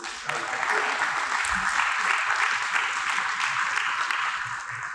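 Audience at a lab-grown diamond symposium panel giving a round of applause, a continuous even patter of many hands, steady in level from start to finish.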